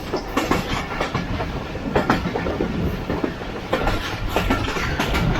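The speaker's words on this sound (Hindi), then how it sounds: "और अभी इस वक्त ट्रेन हमारी पास थ्रू हो रही है कालाशाकाकू रेलवे स्टेशन।" A train rolls through Kala Shah Kaku railway station in Pakistan, its wheels sounding a rhythmic clickety-clack over the rails with a steady rumble underneath, fairly near and unbroken.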